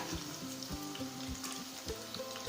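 Chicken 65 pieces fry in hot oil with a steady, crackling sizzle, heard close and alone, with faint rhythmic thumps underneath.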